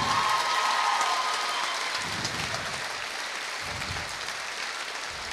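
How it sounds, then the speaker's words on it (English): Audience applause fills the hall after a boxing fight between Brandon McElhinney and Caolin O'Neill, a steady, dense clatter of clapping from a large crowd that holds loud and even throughout with no voices over it. "round of applause for a great fight there"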